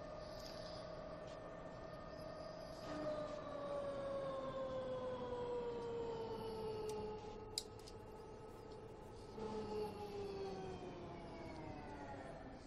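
Ambulance sirens in the bus simulator OMSI 2, a steady wailing siren gliding slowly down and back up in pitch, fairly loud and continuous, with a second siren layer joining midway and a brief click near the end.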